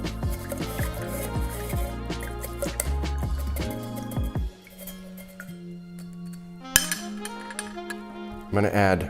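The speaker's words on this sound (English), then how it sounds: "I'm gonna add 1 scoop of ice." Ice is scooped into a cocktail glass or shaker, producing bright clinks and rattles of cubes against glass, then quieter moments and a final burst of clinking with music underneath.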